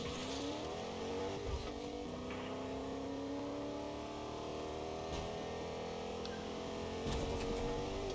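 Car engine drone with shifting revving tones and occasional tire noise from a driving video game, steady and continuous throughout, with faint talk in the background.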